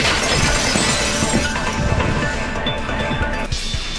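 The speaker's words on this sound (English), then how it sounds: "the girls heard the sound of the window shattering" Glass shatters in the Danganronpa 2 video game, a loud, dense crash with scattering tinkling shards over about four seconds.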